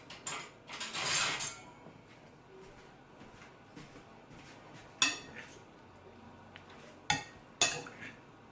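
Metal spoon clatter from grabbing fresh cutlery while making a summertime pasta salad, with a busy rattling burst early on, then a few sharp separate clinks near the end.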